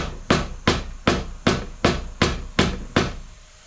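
Eight sharp, evenly spaced metallic hammer blows from a vacuum hammer driving a JC5 gearbox part into place ring out one after another, each strike loud and close with a brief ringing decay.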